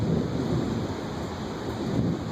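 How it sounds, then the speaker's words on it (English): A continuous low rumble of thunder from a storm over Charlotte rolls on without pause, deep and steady, with a wash of rain-like noise over it. "Just listen to the thunder."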